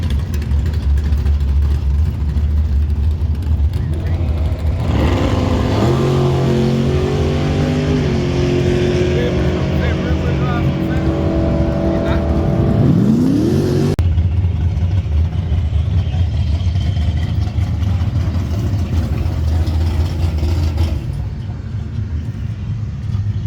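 A Ford Mustang grudge drag car revving and accelerating hard, its engine note climbing in stepped gears over a loud, steady rumble, then cutting off abruptly.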